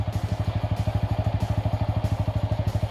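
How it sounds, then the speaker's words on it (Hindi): A 2020 TVS Apache RTR 200 4V BS6 motorcycle eases away in first gear without throttle, its single-cylinder engine thumping in a steady, even low chug, loud and close throughout. "अब एक्सेलरेट नहीं कर रहा हूँ, फर्स्ट में डाला और क्लच धीरे धीरे छोड़ रहा हूँ।"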